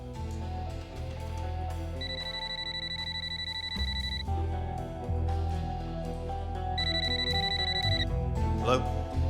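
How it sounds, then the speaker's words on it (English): A telephone rings in two bursts of steady electronic tone, separated by a pause, set against a continuous music bed with no talking. "Kim agrees to let them record her next phone call with Charlie."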